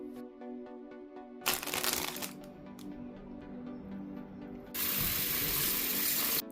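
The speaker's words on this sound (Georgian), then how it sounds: "გავრეცხოთ კარგად, მოვაშოროთ მწვანე ფოთლები" Strawberries washed under running kitchen tap water: two bursts of loud, hissing water flow, the second steady and sustained, with soft handling noises in between.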